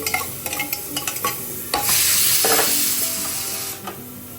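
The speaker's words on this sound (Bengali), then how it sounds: "এটাকে হালকা করে আমি একটু ফ্রাই করে নেবো" Ingredients lightly frying in a pan for a homemade chicken stew, with a run of sharp spoon taps and scrapes that gives way to a loud, swelling sizzle which slowly eases off.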